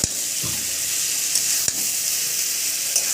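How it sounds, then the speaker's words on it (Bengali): Fried potatoes and pointed gourd sizzle in a hot pan, a loud, steady, close frying hiss with a couple of sharp clinks from stirring. "ভেজে রাখা আলুগুলো দিয়ে দিলাম। পটলগুলো দিয়ে দিলাম আলুর মধ্যে,"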